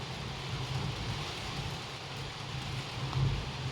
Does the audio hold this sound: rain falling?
yes